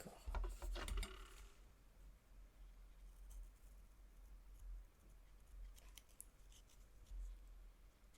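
Scissors snipping through table centrepiece material, a few close crisp cuts bunched at the start, then quieter scattered snips and rustles.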